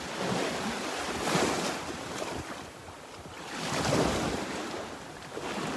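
Small waves washing onto the shore at Delnor-Wiggins beach, broad swelling surges of surf rising and falling in slow rhythm, with some wind buffeting the microphone and no talking.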